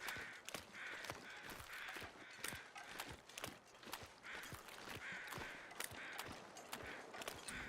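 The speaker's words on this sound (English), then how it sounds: "I'm hearing crows." Crows cawing in the video game The Long Dark, a run of faint, distant harsh calls set against a constant wind-like noise bed with sharp crunching steps.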